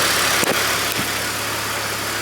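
A BMW E46 engine idles at operating temperature with a steady, even low hum, close and moderately loud, with two brief clicks early on.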